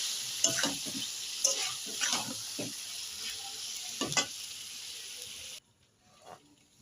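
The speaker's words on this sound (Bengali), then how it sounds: "ঘি দিয়ে দিচ্ছি আমি।" Ghee goes into hot vegetarian moong dal and sizzles as it is stirred, with a steady hiss and several close spoon scrapes that stop abruptly near the end.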